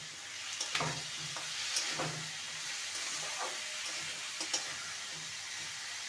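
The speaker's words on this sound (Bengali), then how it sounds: "ভালো করে নেড়ে নেব এইভাবে সবজি দিতে থাকবো আর ভাজতে থাকবো" Cauliflower and flat beans fry in a pan with a continuous moderate sizzle, broken by a few scraping stirs and light knocks of a spatula, close by and with no talk.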